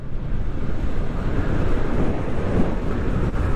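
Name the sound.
wind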